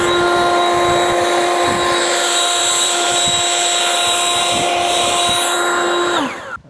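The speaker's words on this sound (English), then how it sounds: "you gotta go and drill a 3-inch hole in your brand new roof" A power drill whines at a steady high pitch for several seconds, loud and close, drilling a 3-inch hole through a new roof, then spins down abruptly at the end.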